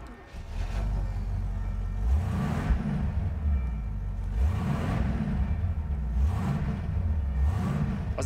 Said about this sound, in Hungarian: Az egész kaszni megmozdul, ahogy rárugok a gázra.